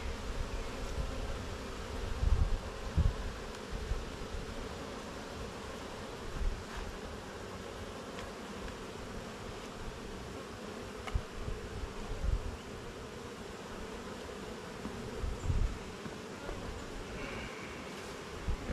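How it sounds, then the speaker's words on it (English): Honeybees swarm around an open hive during an inspection, giving a continuous dense buzz with scattered louder passes of single bees close by, and occasional soft thumps and rustles. "Bees bouncing off my hands, bees bouncing off my head."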